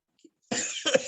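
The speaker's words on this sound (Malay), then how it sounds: "Minta maaf sikit batuk." A single sharp cough after a brief moment of near silence, close and fairly loud, with a short second burst right after.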